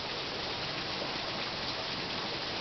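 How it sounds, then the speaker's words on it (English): Steady, dense rainfall from the remnants of Tropical Storm Julio hissing continuously on surfaces, close and even, with no pauses or other sounds. "This is rain from the remnants of tropical storm"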